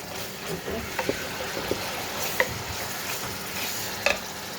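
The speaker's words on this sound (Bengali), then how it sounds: "ভালোভাবে মশলাটা কষিয়ে নিচ্ছি" Spice paste frying in a pan for a prawn and winter greens curry, a low continuous sizzle with light stirring scrapes and taps, a voice faintly present beneath.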